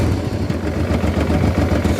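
A 1995 Honda Africa Twin motorcycle with an aftermarket exhaust idling close by, a steady low, throbbing engine rumble with a slightly uneven pulse and no talking.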